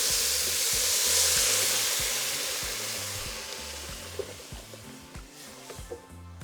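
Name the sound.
tomato broth poured into pan of toasted fideo noodles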